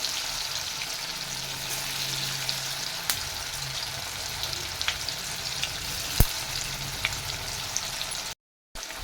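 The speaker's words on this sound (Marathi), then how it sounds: "आता मी ह्या वड्या तळून घेणार आहे" Coriander and roasted-peanut vadis frying in very hot oil, a dense continuous sizzle with scattered pops and crackles close by, briefly cut off near the end, no voices.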